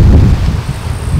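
Strong wind blows outdoors by an open beehive in poor weather, a loud continuous low rumble and buffeting against the microphone with no voices.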